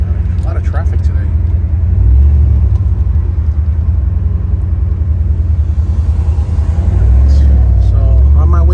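A 1994 Pontiac Trans Am with a six-speed manual cruises down the road, its engine giving a deep, steady rumble that swells briefly as it pulls, while the driver talks inside the car.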